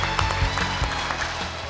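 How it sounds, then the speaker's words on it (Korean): Applause from the crowd at a club anniversary ceremony, a steady wash of many hands clapping with a few sharper claps standing out, fairly loud and without talk. "여러분 우렁찬 박수 부탁합니다"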